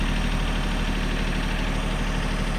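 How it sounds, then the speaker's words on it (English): A tractor engine idles steadily while being backed up slowly during the scrapping of an old Chris Craft boat, a constant low rumble holding even and close throughout with no talk. "go ahead, back the tractor up slowly"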